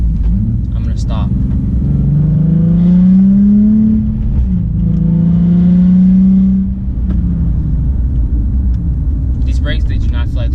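A Nissan 370Z engine revs up through rising gear pulls toward about 50 mph, then winds down and fades as it brakes, with a voice speaking briefly over it.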